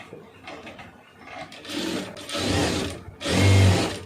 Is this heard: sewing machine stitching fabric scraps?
yes